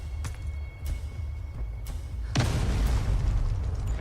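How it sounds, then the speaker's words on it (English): A grenade goes off in the shooter game Delta Force with a single heavy, low boom that rings out and lingers, following a few faint clicks and taps at moderate distance. "Grenade."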